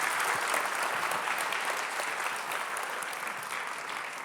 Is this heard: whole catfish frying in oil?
no